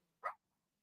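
A pet dog gives a single short bark, faint and isolated in an otherwise quiet room, with no talk around it.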